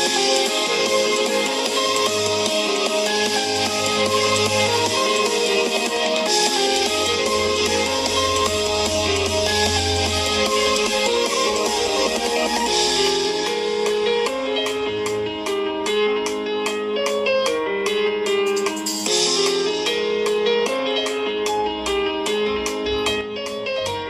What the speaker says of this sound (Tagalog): Ito ang tunog ng speakers.